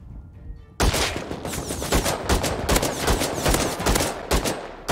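AK rifle fire in the survival game Rust erupts after a brief quiet, a rapid string of loud, close shots with a few short pauses between bursts.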